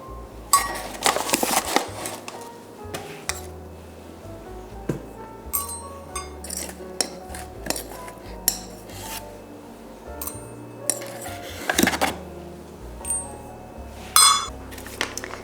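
Cups of flour for vegan biscuits being measured and tipped into a bowl, with repeated close scraping, rubbing and light clinks of the cups against the bowl, no talk.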